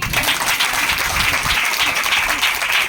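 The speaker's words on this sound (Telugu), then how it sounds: "చప్పట్లు కొడుతాం" A crowd applauds for a few seconds, a dense, even patter of many hands clapping together at moderate volume.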